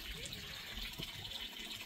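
Water being poured at a fishing spot makes a soft, continuous splashing gush, quiet and close, with no other sound over it.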